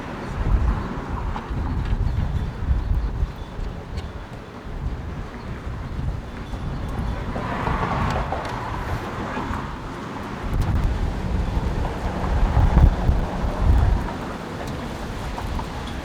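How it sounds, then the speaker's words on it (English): Steady gusting wind roars across the microphone, broadband and rumbling, swelling louder toward the end with no talk. "It's getting super windy"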